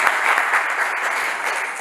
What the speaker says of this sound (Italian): facciamo un grosso applauso a Rachele per il suo compleanno.